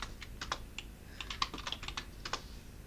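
Quick bursts of keystrokes on a computer keyboard as a chmod command is typed into a Linux terminal, crisp close clicks in an uneven rhythm with short pauses, no voices.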